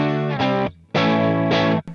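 Bright electric guitar through a Joyo Jackman amp with the tone knob turned all the way up, two sustained strummed chords ringing out with a short gap between them, then a brief final pluck.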